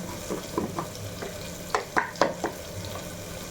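Chili and salt are stirred in a hot frying pan, a soft steady sizzle beneath several sharp scraping strokes of a spoon against the pan, close up and with no talk.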